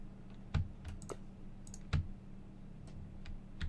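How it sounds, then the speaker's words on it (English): Keys clatter on a computer keyboard during a Minecraft Stoneblock 2 session, scattered clicks with a few louder hard strikes, close-up over a low steady hum, no speech. "I'm just all over the keyboard today, ain't I?"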